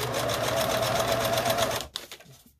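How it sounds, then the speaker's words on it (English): A sewing machine back-stitching on a string quilt runs in a steady, rapid whirring stitch for about two seconds, then stops, leaving a few faint handling clicks. "I'm going to back sew again."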